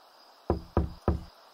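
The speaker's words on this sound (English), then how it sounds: "He is going to knock on his own door?" Three firm, evenly spaced knocks on a front door in the Desperate Housewives video game, close and hollow-sounding against quiet background hum.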